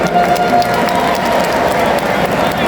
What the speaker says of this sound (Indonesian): berikan aplaus buat Orgasmic